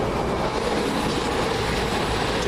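A Class 221 train heading for Manchester Piccadilly rolls past nearby, giving a steady, loud broadband rumble and roar of carriages with no pauses.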